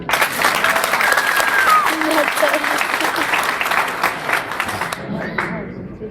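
Loud applause from the crowd at a 30th-year graduation ceremony speech, brisk sustained clapping with some crowd murmur that fades abruptly near the end as it dies down.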